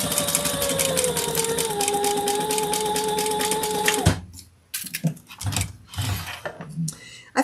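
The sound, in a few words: sewing machine sewing lining contrast bands together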